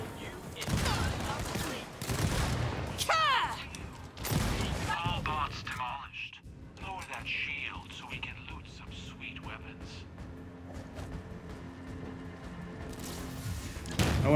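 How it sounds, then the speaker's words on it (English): Explosions and gunfire in the video game Borderlands 3: bursts of rapid shots and heavy blasts mixed with game voices and effects, followed by a steady mechanical hum. "Explosions."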